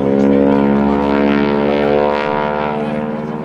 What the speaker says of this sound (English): he's going to do that 16-point hesitation roll, stopping that airplane 16 equal times in one pass